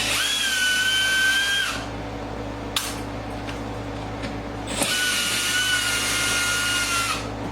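Power drill on a 2023-or-later Corvette C8 Z06/E-Ray front splitter (Z07 package) install: two sustained whining runs of about two seconds each, near and loud, separated by quieter shop background and a couple of sharp clicks.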